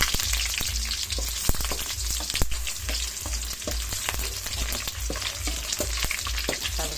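Garlic and onion frying in oil for a mixed-vegetable coconut-milk stew with pork produce a continuous near sizzle, with sharp spatter pops scattered throughout and a regular low rhythmic thumping beneath.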